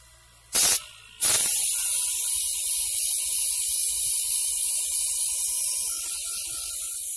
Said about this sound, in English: put in some airbrush cleaner now, so I can clean out the paint